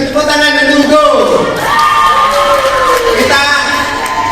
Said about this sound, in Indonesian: Sekali lagi beri tepuk tangan untuk Ugo.